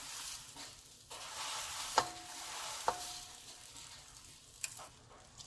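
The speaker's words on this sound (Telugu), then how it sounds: "ఇప్పుడు ఇలా మెల్లిగా కలుపుదాము." A poha mixture, the flattened rice called atukulu, stirred in a pan on the stove with a soft continuous sizzle, gentle scraping and a few sharp clinks of the spoon against the metal, with no talk.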